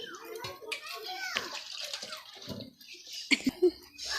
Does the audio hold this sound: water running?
yes